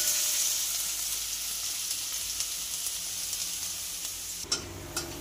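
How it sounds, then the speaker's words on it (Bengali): Crushed garlic sizzles steadily in hot mustard oil in a pan, a loud continuous frying hiss that drops suddenly near the end, followed by a few faint clinks. "রসুনটা একটু লাল লাল করে ভেজে নিচ্ছি"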